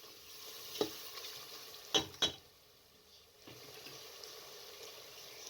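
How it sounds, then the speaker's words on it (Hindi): Beef (gosht) with spices is sautéed in a pot for dagi palak gosht under a soft, steady sizzle, with a few sharp scraping clanks of the spoon against the metal. There is no talking. "मसाले डालकर अच्छे तरीके से गोश्त को भून लें।"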